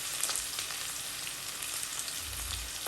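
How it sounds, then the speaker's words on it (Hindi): Onions fry in a pan for chicken jalfrezi, a steady, quiet, hissing sizzle that carries on evenly with no voices. "अब 2-3 मिनट हो गए हमें अनियन फ्राई करते हुए"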